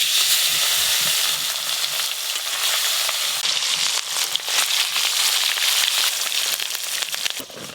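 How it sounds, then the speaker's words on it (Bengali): Pieces of rui fish fry in hot oil in a pan, giving off a loud, close, continuous sizzle with popping crackles and occasional stirring scrapes. "এবার মাছগুলো ভেজে নেব।"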